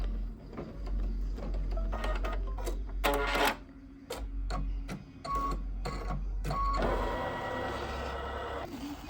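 An embroidery machine stitches an alignment line and a basting line on a towel topper project, giving rapid mechanical tapping and whirring in uneven runs, with a steady low motor hum throughout and no talk.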